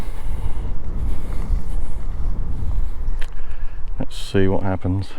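Wind blows across an open field at the Avebury Longstones during a rod-dowsing session, a steady, loud low rumble buffeting the microphone for several seconds before someone speaks briefly over it near the end.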